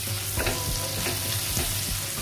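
A medium onion sautés in a pan for paneer gravy, giving a continuous close sizzle with soft stirring scrapes over a short stretch.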